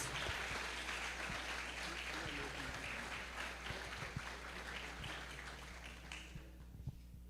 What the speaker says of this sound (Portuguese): Vamos receber o servo do Senhor aplaudindo a Deus em nome de Jesus